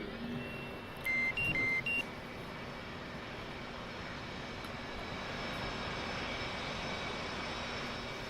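Jet engines spool up on a simulated Blue Angels jet in the DCS World flight game, a steady broad whine and roar throughout with a short series of electronic beeps near the start.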